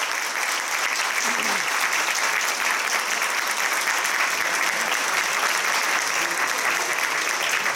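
Strong, dense audience applause at an opening-night event, a continuous loud roar of many hands clapping that holds steady throughout without letting up.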